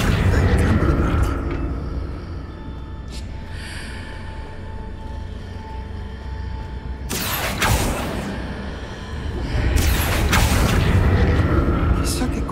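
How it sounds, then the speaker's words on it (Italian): A burst of magical energy erupts in Hogwarts Legacy, rolling in as two broad, booming surges over a steady ambient game bed, the second swelling louder and lingering several seconds. "dopo quell'esplosione di magia"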